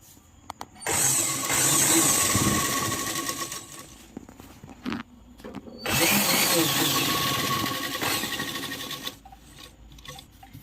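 A sewing machine stitches a petticoat in two loud, steady whirring runs of a few seconds each, separated by a short pause with a clack, then stops.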